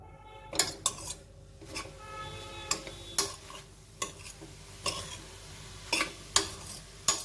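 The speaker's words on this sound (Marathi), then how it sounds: "मी त्याच्यामध्ये तूप घातलेलं आहे चांगलं तूप घालायचं म्हणजे मस्त छान खमंग चव येते छान परतून घेऊया आता" Grated bottle gourd is sautéed in ghee in a heavy-bottomed pan: a quiet, close series of sharp metallic spoon clinks and scrapes in an uneven rhythm over a faint background sizzle.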